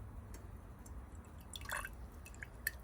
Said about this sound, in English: I'm going to add just a touch of water.